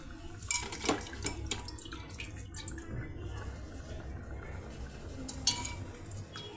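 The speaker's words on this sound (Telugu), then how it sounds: "ఇక ఇప్పుడు మనం పాలకూరని వాష్ చేసి ఇందులో యాడ్ చేసేద్దామండి." Spinach is rinsed under a running kitchen tap, water splashing and trickling while the leaves and a vessel knock and clatter now and then, close by and moderately loud.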